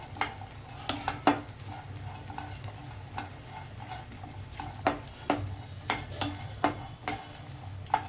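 Cashews and raisins fry in a pan for ragi laddu, a soft steady sizzle broken by sharp scraping clinks of a spoon stirring against the metal, close and clear with no talking.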